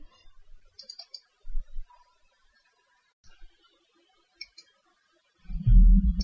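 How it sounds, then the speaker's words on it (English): A computer mouse clicks at a spreadsheet cell, producing sparse, faint, crisp clicks in a quiet room, with a louder low rumble or handling noise near the end. "So here I will double click the cell."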